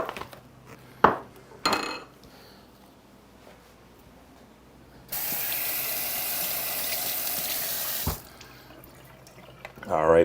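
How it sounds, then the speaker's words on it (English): Scallops rinsed under a running kitchen tap, the water rushing steadily for a few seconds after some clinks and clatters of dishes in a sink, close and moderately loud with no talking. "Then we'll rinse them off."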